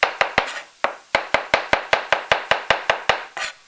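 A knife chops mushrooms on a cutting board, giving a fast, steady run of about seventeen sharp, crisp knocks. The sound is loud and close, with no voices over it.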